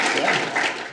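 Audience at Marquette University Law School clapping steadily to welcome two speakers, a dense, even patter of many hands filling the room for about a second.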